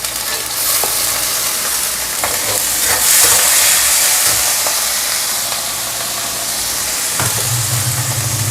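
Chili and garlic fry in a pan with a loud, steady sizzle and hiss. Scrapes and clinks of stirring are scattered through it.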